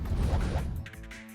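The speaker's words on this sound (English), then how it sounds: "With the sound of breaking glass, Archer flashes out of sight." Glass shattering as a frozen space is broken by force in an anime battle, a loud crash with a burst of scattering shards that rings out briefly before fading.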